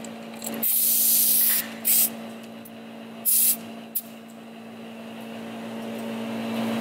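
Compressed air at 80 psi hisses in several bursts during a leak-down test of a built engine's number one cylinder, loud and close, with a steady low hum between bursts; no one speaks.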